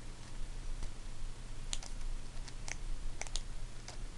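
A homemade BMX hub spins with scattered light clicks at irregular intervals, sharp ticks standing out over a steady low background hum.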